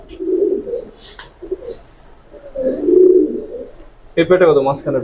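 Indian giribaz pigeons coo in low, throaty bursts at close range, with people talking over and between the calls at a pigeon seller's.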